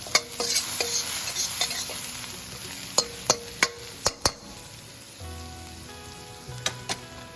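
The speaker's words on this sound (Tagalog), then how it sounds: "yung ginger natin, ilagay ko na. So, igisa lang natin siya ng konti." Ginger sautéing in a pan for sisig made from leftover grilled milkfish, a soft sizzle beneath repeated sharp clinks and scrapes of a utensil against the pan, with no voices.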